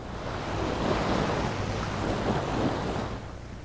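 Steady surf rolls onto the freshwater shore of Lake Erie, a broad continuous wash of waves with wind noise mixed in, fairly even in level throughout and with no voices.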